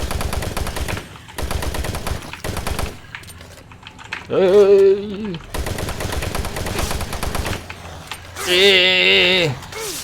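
Bursts of rapid automatic gunfire from Doom 3: Lost Missions, loud and close, broken by short pauses and by two swelling, tonal sounds in between.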